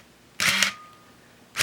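A Minolta Maxxum 7000 film camera with a 35-70mm zoom lens fires its shutter at a half-second exposure. A crisp mechanical snap opens it, and a second sharp clack closes it about a second later, close and clear in a quiet room.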